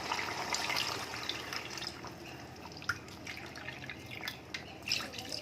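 About one and a half cups of water poured from a cup into a pot for chicken pulao, a soft continuous splashing trickle with a few small drips, close but fairly quiet, no voices.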